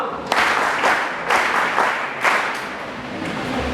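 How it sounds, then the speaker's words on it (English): Crowd of students and staff at a secondary school gathering applauds the chairman of academics, a dense, steady clapping in three swelling bursts that carries on without a break. "Clap for the chairman academics."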